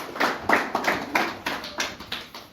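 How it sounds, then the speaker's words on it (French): Clapping breaks out for the pastor in a church service, with about nine distinct, evenly spaced claps in a loose rhythm, moderately close and ringing slightly, with no speech. "applaud once more for the pastor."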